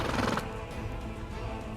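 A horse neighs in the fantasy role-playing game Pathfinder: Wrath of the Righteous, with a strong whinny at the start and a steady low rumble of game sound continuing beneath it.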